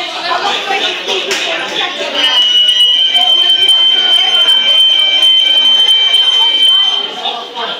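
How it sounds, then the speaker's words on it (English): A school fire alarm sounds continuously as a loud, steady electronic tone that holds through most of the clip, with people chattering and moving around beneath it. "I love having a fire alarm, I tell you."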